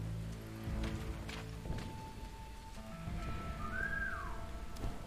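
A character whistles in the stealth video game War Mongrels: thin, steady whistled tones, then a short rising-and-falling note. They play over a soft, constant ambient wash with a few faint clicks and no talking.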